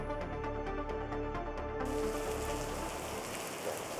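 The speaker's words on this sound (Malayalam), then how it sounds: "ഇന്ന് രാവിലെ മുതൽ തന്നെ കോഴിക്കോട് ഉൾപ്പെടെയുള്ള ജില്ലകളിലെ മലയോര മേഖലകളിൽ ഇടവിട്ട് കനത്ത മഴ തുടരുകയാണ്." Heavy rain pours steadily in the hilly areas of Kozhikode district, a dense, even hiss that runs through the whole stretch with no voices over it.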